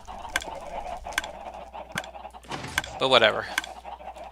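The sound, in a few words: chickens clucking, from video game Minecraft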